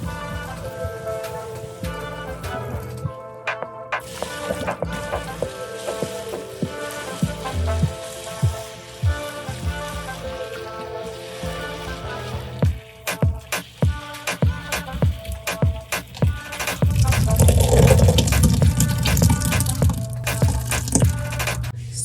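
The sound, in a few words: draining cooked boba tapioca pearls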